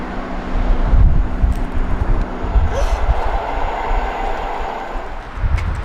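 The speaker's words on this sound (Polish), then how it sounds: "Co to Filip za pociąg pojechał?" A train rolls past outdoors with a rumbling, rushing roar and some faint rattling clatter, loud and fairly close, rising and settling over several seconds.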